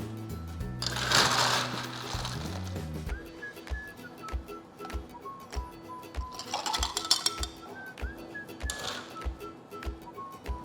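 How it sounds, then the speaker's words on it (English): Ice cubes clink and rattle into a glass for a peach-infused bourbon old fashioned, with several bright clattering bursts against steady background music. "Now we add the ice."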